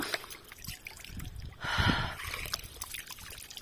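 Soft water trickling among hillside rocks, a steady low babble that swells briefly in the middle, with faint outdoor background noise.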